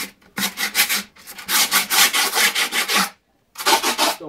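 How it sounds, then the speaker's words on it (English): A hand file rubbed hard around the edge of a skateboard deck to shape the grip tape, loud close rasping strokes in quick rhythmic runs broken by short pauses. "we're going to use a file, round file, flat file, whichever. I'm just going to rub all around the outside of the board to make the shape of the deck"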